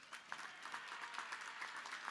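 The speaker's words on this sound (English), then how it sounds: "Let's give them all another round of applause." An audience at a graduation ceremony applauds, a faint, steady patter of many hands clapping with no single claps standing out.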